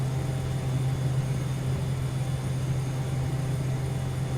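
Steady airplane engine drone in Air Hauler 2, a constant loud low hum with no talk, holding evenly throughout.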